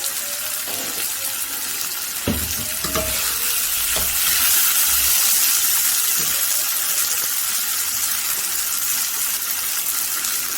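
Oil sizzling in a hot pan while lamb cooks, a steady bright hiss throughout with a few clinks and stirring knocks, no talking.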